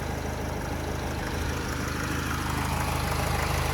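A 2011 Renault Trafic 2.0 diesel van engine idles steadily up close, a low rhythmic chugging with a constant broadband rumble and no voices.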